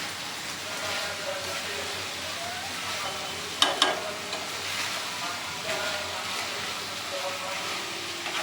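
Boiled cauliflower goes into a curry in a hot pan, a steady, quiet sizzle with one brief sharp clatter partway through.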